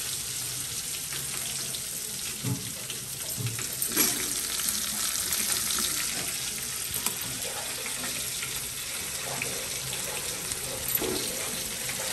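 Stuffed brinjal curry, made the old-fashioned way, frying in a pan gives a steady, soft sizzling hiss, with a few faint stirring knocks now and then.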